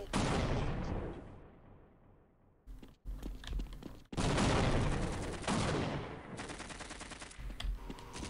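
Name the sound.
gunfire shooting at the player in a video game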